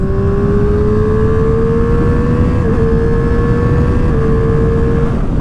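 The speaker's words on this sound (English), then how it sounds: "If I needed to do some passing in a hurry, I could just use that quick shifter, drop into 4th," A Triumph Street Triple R motorcycle pulling hard after a quick-shift into fourth gear, a loud steady engine tone climbing gradually in pitch over heavy wind rush, close and continuous.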